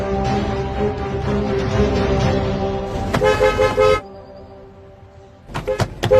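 Car horns honk repeatedly in a heavy traffic jam on the road to the airport, with short toots and longer blasts sounding close over a steady roar of road traffic.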